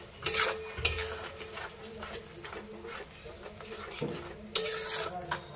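A pan of ginger, green chillies and dried chillies is stirred with a utensil, the spoon scraping and clinking against the metal in irregular strokes, with a few louder knocks, close and alone.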